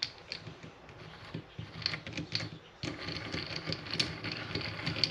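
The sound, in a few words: cranking tool holders into position on a Vevor mini lathe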